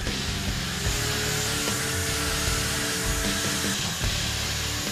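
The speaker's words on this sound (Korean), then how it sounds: "일차 연마를 통해 수평을 잡고 나면 다음은 손사포질이 이어진다." A steady, loud mechanical whir runs without pause as a power sander grinds a wooden cutting board, with a constant buzzing hum throughout.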